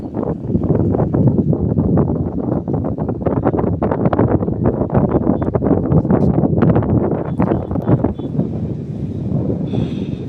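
Steady strong wind off the Teesta River roars and buffets the microphone without a break, a broad rushing sound that fills the whole stretch.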